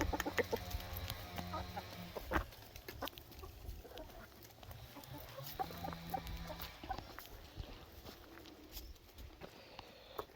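Chickens cluck and murmur inside a backyard chicken coop in Bulgaria, with scattered short calls and soft clucks at a moderate distance over a quiet outdoor background, and no one speaking.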